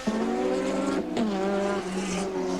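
Onboard a 1989 ATCC touring car racing at Mallala, the engine drones loud and close with a steady high note that dips briefly twice as the car shifts gears.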